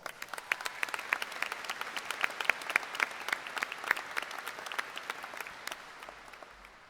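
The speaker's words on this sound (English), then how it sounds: "Let's give them a round of applause." Applause at a career and technical education completion ceremony, a modest crowd clapping in crisp, distinct claps that build and then fade out over several seconds, fairly quiet and a bit distant.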